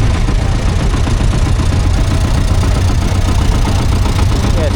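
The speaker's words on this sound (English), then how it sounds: "I'm just listening to it because that's a really cool engine, one of my favourite ones." A Field Marshall two-stroke diesel tractor engine runs at a tractor festival in Biddenden, a loud, close, continuous throb that stays steady with no talk over it.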